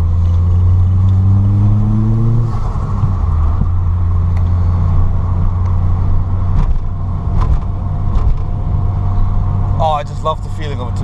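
A Peugeot 205 turbo idles steadily while warming up, a loud continuous low engine drone with a brief rise in revs early on, and people talk over it.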